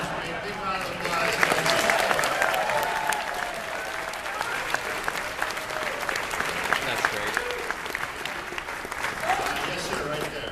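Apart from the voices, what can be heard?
audience applause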